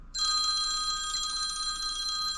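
An incoming phone call rings through an XGP X10 motorcycle intercom as a continuous bright bell-like electronic trill, steady and clear for over two seconds, with no voices.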